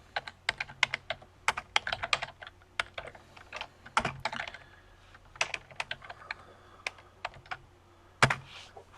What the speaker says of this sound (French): Et puis, on peut taper notre requête.